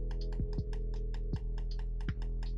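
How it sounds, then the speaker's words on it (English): Computer mouse tapped hard, giving sharp plastic clicks spaced about half a second to a second apart, with lighter rapid keyboard-like ticks running between them, close and fairly quiet. "if I tap my mouse hard"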